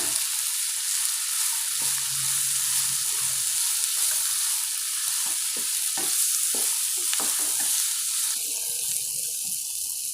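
Carrots sizzle steadily in a hot pan, with a constant frying hiss and intermittent scraping and stirring sounds from a utensil.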